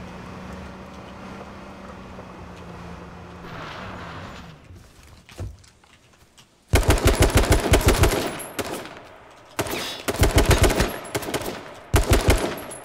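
Automatic gunfire in the H1Z1 battle-royale game, quiet at first, then loud rapid bursts of rifle shots in several clusters with short pauses between them.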